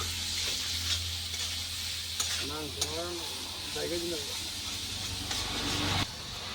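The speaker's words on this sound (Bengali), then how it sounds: "পেঁয়াজ টমেটো ফ্রাই হয়ে গেল" Onions and tomatoes frying with salt in a pan, a steady close sizzle and hiss with occasional stirring, while a voice speaks briefly in the middle.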